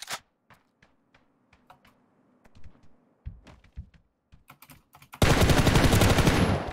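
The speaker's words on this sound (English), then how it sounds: "He's shooting at me." Scattered light clicks lead into a sudden loud, sustained burst of rapid automatic gunfire in a shooter video game.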